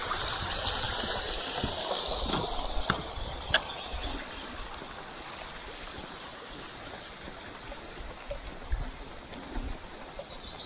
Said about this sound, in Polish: Strumyczek.